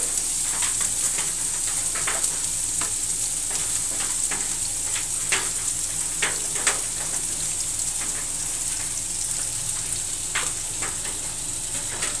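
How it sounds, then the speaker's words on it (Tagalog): Onion and garlic frying in hot oil in a pan while being stirred, a steady close sizzle dotted with crackling pops and spoon scrapes, with no talking. "Halo-haloin natin to para hindi masyado masunog yung sibuyas at bawang. Kailangan haluin."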